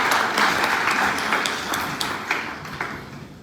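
Audience applause at a summit of the Rebranding Africa forum, with dense, steady clapping from a crowd in a large hall that sits close and fairly loud and gradually thins out.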